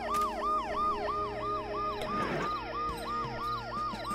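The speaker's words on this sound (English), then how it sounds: "The noise the ambulance makes will cover the sound of the glass breaking" A wailing ambulance siren from the video game Dead Synchronicity sweeps up and down in a fast, steady repeating cycle, loud and continuous, with a brief crunchy rattle partway through.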